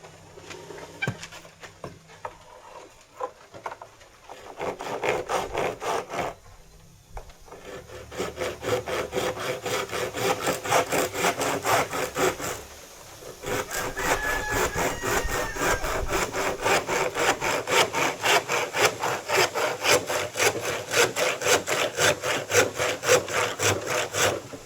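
Rhythmic back-and-forth rasp of a hand saw cutting through wood, fast steady strokes continuing for a long stretch with a few brief pauses.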